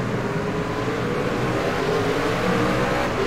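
Race car engine in the iRacing sim roaring steadily and loud as the field accelerates at a restart, with a sustained high engine drone and faint rising pitch throughout.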